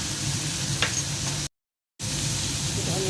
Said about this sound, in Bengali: সব কিছু একসাথে ভেজে নেব।